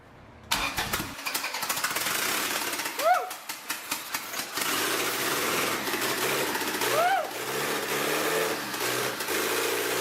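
A Honda Civic EK hatchback with an H/F series engine swap, primed with starter fluid, cranks briefly and then catches into a loud, rough, uneven idle close by, with voices talking over it.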